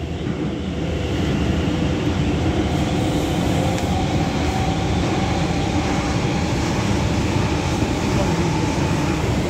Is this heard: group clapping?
no